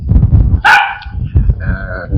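Dogs bark on a quiet residential street on a hot evening, a few sharp, loud barks close by, separated by short gaps.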